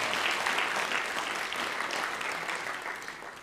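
Indoor audience at the Hayward State of the City event breaking into dense, steady applause that holds strong and tapers slightly toward the end.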